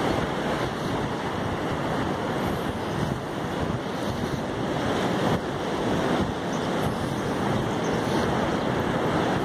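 Heavy storm surge waves pound an eroded shoreline where buildings have been destroyed, in Itapoá, a continuous loud roar of surf mixed with strong wind buffeting the microphone, with no talking.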